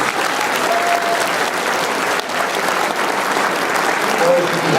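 Sustained audience applause at a high school winter sports awards night, a dense, loud wash of clapping from a large crowd that continues steadily for several seconds.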